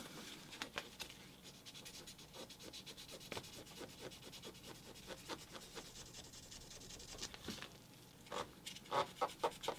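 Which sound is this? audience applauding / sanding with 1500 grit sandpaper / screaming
sanding with 1500 grit sandpaper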